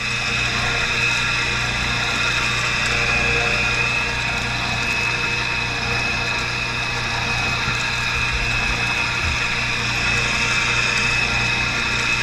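Electric fish grinder running steadily as it processes fish into oily chum bait, a constant motor whine and grinding drone that holds at an even level throughout with no speech.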